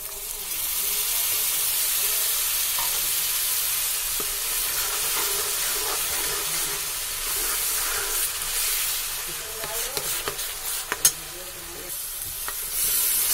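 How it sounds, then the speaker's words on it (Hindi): Tomato puree goes into a pan of fried onions, setting off a loud, steady sizzle and hiss throughout, with a few sharper crackles and pops near the end. "अब हम इसमें डालेंगे ये टमाटो प्यूरी।"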